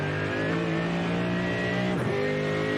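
A race car engine in a Nürburgring endurance sim racing game drones close and continuous, holding a steady pitch before an abrupt gear-change dip near the end and resuming, with no voices heard.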